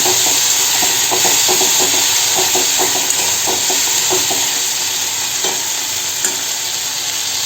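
Bata fish masala being stirred in a hot pan, a steady close sizzle and hiss of frying spices with soft scraping strokes of the spoon repeating through the whole stretch.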